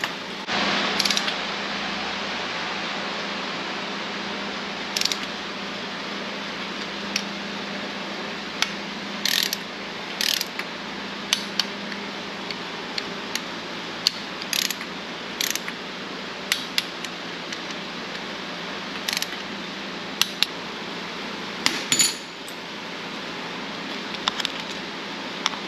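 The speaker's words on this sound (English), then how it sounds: "Now we'll actually torque them." A torque wrench ratchets in short, sharp clicking bursts while tightening camshaft bolts for a BTR Truck Norris cam in a junkyard LS engine from a 1992 Firebird, set over a steady low background hum with no talking.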